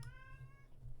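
A house cat gives a single short, faint meow with a clear tonal cry that fades after about half a second, heard over a low background hum.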